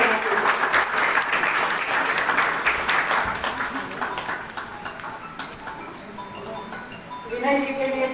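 A crowd gives loud applause welcoming a speaker to the stage at a community gathering, dense clapping sustained for several seconds before tapering off, with voices rising near the end.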